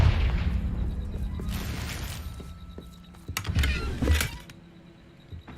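Confringo blasting spell cast in Hogwarts Legacy at a poacher camp, sharp whooshing bursts and a couple of booming impacts that rise and fade over a few seconds.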